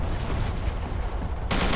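Sustained, dense gunfire from the BlackSquad Online shooter game, loud and continuous, ending in a sharp, louder burst of shots.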